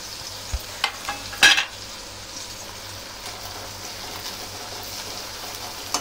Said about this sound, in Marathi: कांदा छान फ्राय झाला आहे